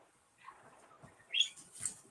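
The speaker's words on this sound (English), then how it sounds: "I hear birds in the background." Pet birds, about ten kept indoors, chirp faintly in the background with a couple of short high tweets over soft room noise.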